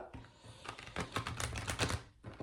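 A deck of tarot cards is cut and handled, producing a quick run of crisp, papery clicks and flutters over about two seconds, close and fairly loud, with no talking.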